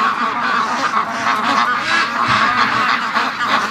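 Geese honk loudly and continuously near a flock of free-range ducks outdoors, overlapping calls and quacks forming a steady, close chorus.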